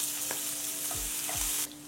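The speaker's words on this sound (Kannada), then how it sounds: "ಕ್ಯಾರೆಟ್ ಎಲ್ಲ ಮೆತ್ತಗೆ ಫ್ರೈ ಆಗಿದೆ" Carrots and other chopped vegetables frying in a pan, a steady loud sizzle with a few scraping strokes of a spatula stirring them, close up and without talk.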